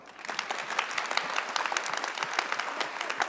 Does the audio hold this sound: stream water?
no